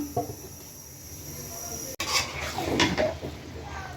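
A lid clanks onto a cooking pot of pork and vegetable khichuri after green chilies go in, a sharp metallic knock midway between stretches of soft sizzling and utensil clatter.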